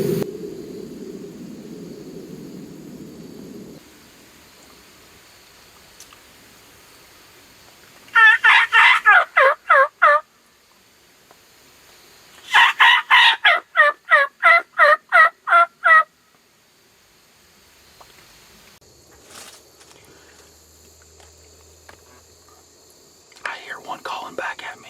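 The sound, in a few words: wild turkeys gobbling in the woods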